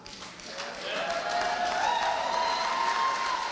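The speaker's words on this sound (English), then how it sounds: "Let's give them all a round of applause." At a graduation ceremony for a class of 2023, the crowd breaks into applause that swells after the first second, with a rising cheer or whoop carried over the clapping.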